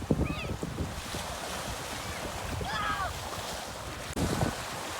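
Ocean surf washes onto a beach in a steady, faint roar with wind noise, and brief distant voices rise over it near the end.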